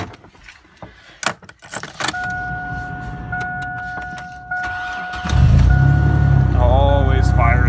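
A 2004 Chevrolet Blazer with 220K miles is cold started at minus 28 wind chill: keys jangle and a warning chime sounds, then the engine cranks and catches into a loud, steady idle, with a voice speaking briefly early on.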